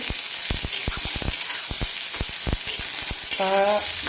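Finely chopped onion fries in a pan, a close, steady sizzle broken by frequent sharp crackles and pops, with a brief ringing metallic clink near the end.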